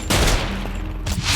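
A shotgun's alternate fire in the video game Putrefaction: loud, close gunfire-like blasts in quick succession across a short burst, heavy low-end thumps with bright crackle, no voices.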